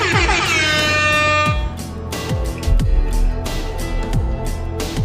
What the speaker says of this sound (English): he jump scares the player using an air horn